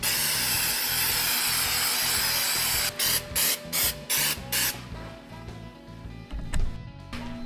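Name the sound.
spraying gravel guard coating onto a truck body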